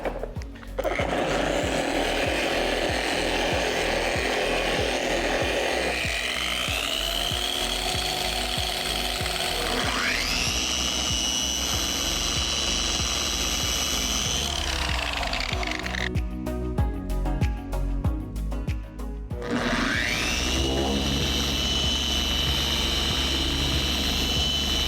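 A rotary machine polisher with a wool pad works plastic car trim, a loud continuous whine that rises and falls in pitch as the pad speeds up and slows, with a brief rattling pause.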